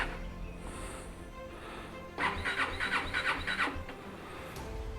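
A motorbike with a dead battery fails to start: a brief burst of starter grinding, about five quick cranking pulses over a second and a half, then it dies away over a low background hum.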